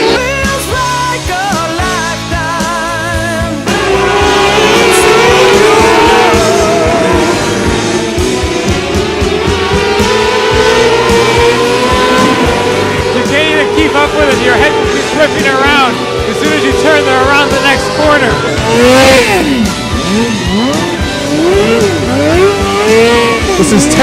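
Race cars at a racetrack roar and rev loudly, engines rising and falling as the cars slide and lose grip, heard close and continuous with people talking over the noise.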